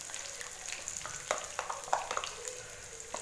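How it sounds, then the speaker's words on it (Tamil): Green chillies fry in hot oil for an egg gravy, giving a steady, close sizzle with crackling pops and occasional stirring scrapes. "பச்சை மிளகாய் பாருங்கள் எண்ணெய் நல்லா பொரிஞ்சு வதங்கிட்டுருக்கு"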